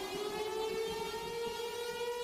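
A steady civil-defense-style siren holds a sustained rising wail, moderately loud and continuous, alone without speech.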